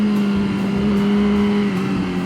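A 2013 exotic superbike engine drones steadily at speed on the street, a continuous throaty hum with rushing wind noise, heard close and loud with no voices.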